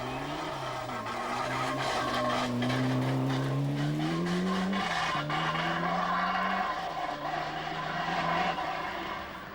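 A Ford Sierra rally car at a British Rally Championship event drives past close and loud, its engine revving and climbing steadily in pitch, then shifting and pulling hard again, with no voices.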